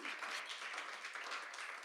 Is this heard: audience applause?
yes